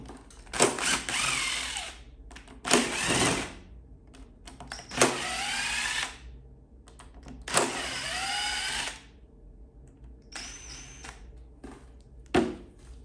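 A power drill removes the case screws on a Redmax 8500 backpack blower in four separate whining bursts with pitch sweeps, each a few seconds long, separated by quiet pauses.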